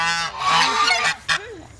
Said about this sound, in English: These geese are called white china geese.